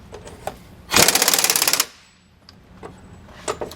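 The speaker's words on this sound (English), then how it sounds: "I'm going to go ahead and run this up a little bit with my drill" A power drill runs nuts up on a Roadmaster rear anti-sway bar on a 2015 Tiffin Allegro RV. One loud rattling burst of just under a second stands out against quieter clicks and taps of work.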